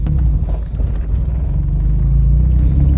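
A car engine runs and rumbles steadily during a driving lesson, a loud, low, continuous drone heard from inside the moving vehicle without talk.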